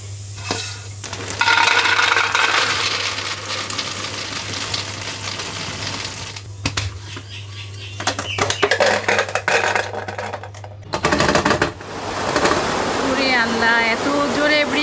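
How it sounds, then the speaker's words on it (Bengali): A sudden heavy downpour roars as a loud, steady wash of noise from start to finish, with voices talking over it throughout. "আল্লাহ, এত জোরে বৃষ্টি"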